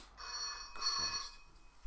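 On a TV game show, the banker's telephone rings in two bright trilling bursts, the second stronger, heard from a television set at moderate level with no talk over it.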